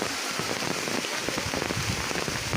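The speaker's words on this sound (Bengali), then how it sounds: "বৃষ্টি স্নাত দুপুরে সেই অঝোর ধারার বৃষ্টি পড়ে নদীর উপরে।" Heavy downpour pours onto a river, a dense, steady hiss of rain striking the water that stays loud and even throughout, with no voices.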